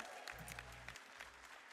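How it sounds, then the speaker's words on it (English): An audience at a speedrunning marathon event, AGDQ 2020, cheers and applauds in a short, steady burst of clapping and whoops, with a few brief voices rising over the crowd noise. "can we get a cheer for that?"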